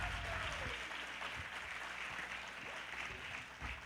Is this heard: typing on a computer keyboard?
no